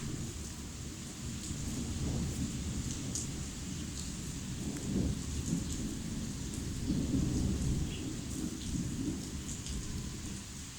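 Steady rain pouring outdoors with low rolling thunder rumbling underneath, constant and even throughout with no voices.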